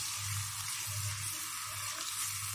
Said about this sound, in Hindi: ज़रा सा सौते करते हैं